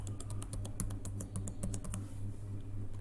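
A password is typed on a computer keyboard during an Azure AD Connect lab setup. Rapid, close key clicks run for about two seconds, then stop, leaving quiet room tone with no talk.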